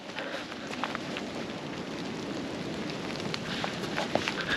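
Steady rain falls outdoors on an evening run along a sandy course, a continuous close hiss with scattered drop patter and no voices.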